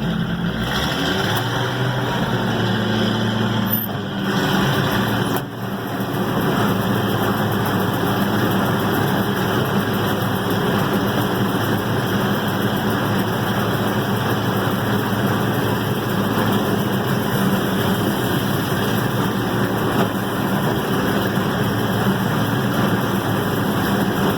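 A combine harvester engine runs steadily in a bean field, a loud continuous low rumble with a brief dip in power early on before it holds at a constant revving drone, with no talk over it.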